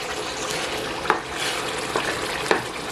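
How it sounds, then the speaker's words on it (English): A spoon stirring a tomato puree mixture in a cooking pot, soft continuous scraping over a background sizzle, with a few sharper knocks against the pot. "I'm going to stir together."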